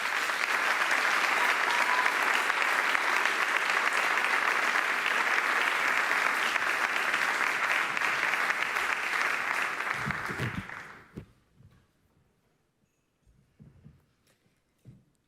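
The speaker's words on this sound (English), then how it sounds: "Can I have a warm applause for Marshall Ganz?" A lecture audience gives a warm welcome to a speaker on grassroots organizing, a broad, steady wash of clapping from a sizable crowd lasting about ten seconds, then fading abruptly to a few scattered thumps and near silence.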